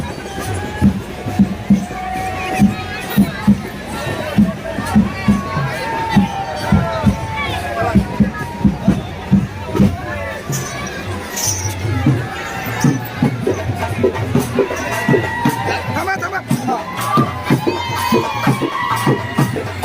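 A village fair procession with horses draws a dense crowd that shouts and cheers in rising bursts over constant chatter, loud and close throughout.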